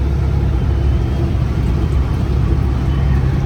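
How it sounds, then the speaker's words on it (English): A Kenworth truck's engine fan running at full blast, with an air leak around the fan clutch, makes a loud, steady, close broadband roar that holds unbroken from start to finish. "Sounds like there's an air leak around the fan clutch."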